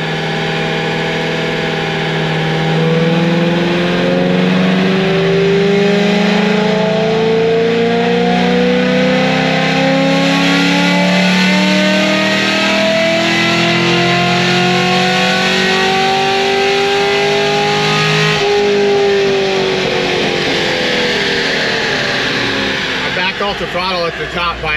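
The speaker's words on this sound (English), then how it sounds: "This is the longest dyno pull in history." A Chevrolet LS7 V8 revs hard and holds high throttle on a dyno for a long pull, its loud droning roar climbing steadily in pitch before dropping off near the end, with a voice briefly heard.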